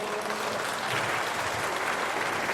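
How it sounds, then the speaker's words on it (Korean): At a community free samgyetang lunch for about 300 seniors at an elementary school, the audience gives steady, continuous applause for event staff, moderately distant with a faint crowd murmur underneath. "박수 한번 부탁드릴게요."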